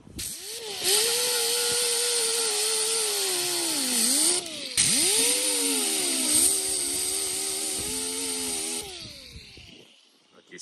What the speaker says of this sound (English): we'll be using a not so abrasive disc again, so that way we're not eating too far into the metal